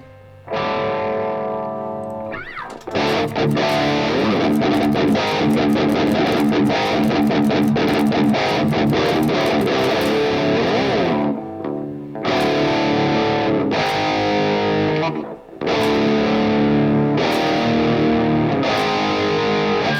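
Electric guitar played through a gain pedal, loud crunchy distorted chords and fast picked riffs with brief pauses between phrases, close and with no talking.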